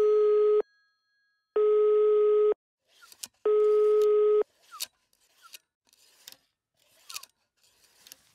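Three loud, evenly spaced telephone busy tones pulse at the start, signalling a number no longer assigned, followed by fainter clicks and mechanical ticking.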